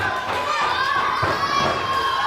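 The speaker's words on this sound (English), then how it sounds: "they're more than content with cheering for the bad boy" Wrestling event crowd cheering for the villain, a dense steady roar of shouting voices with a few higher yells standing out, loud and continuous.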